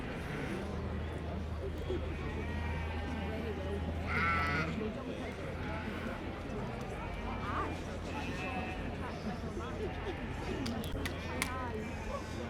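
Dutch Spotted sheep bleating at a livestock show ring, a few bleats heard at moderate distance over a busy background of crowd chatter and general show-ground noise.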